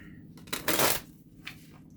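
Tarot cards are shuffled in a single short riffle, a crisp papery burst lasting about half a second, followed by a faint second flick, close and otherwise quiet.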